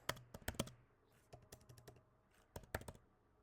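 Quick bursts of keystrokes on a computer keyboard while Java code is typed, the clicks coming in clustered flurries with short pauses between them, close and fairly faint, with no talking.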